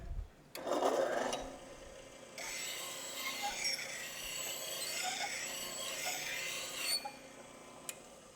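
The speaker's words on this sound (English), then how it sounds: "So I got to sharpen my bowl gouge." A woodturning bowl gouge is sharpened with a steady, continuous grinding rasp that runs for several seconds at moderate loudness, after a brief louder burst at the start.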